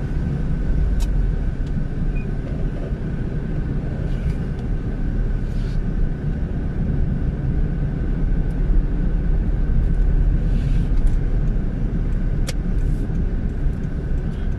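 A car drives through a 30 km/h zone, heard from inside as a steady, loud low road and engine rumble that holds constant throughout with no talking.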